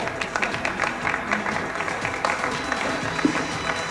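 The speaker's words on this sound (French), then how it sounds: "On applaudit très fort" A circus audience claps hard, with crisp individual hand claps popping out of a busy wash of applause that keeps going steadily throughout.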